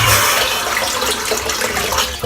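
A tap runs steadily as water is added to shaving soap, a close, bright splashing flow that continues without a break. Some fluctuating spatter sits within the running water, and no one speaks.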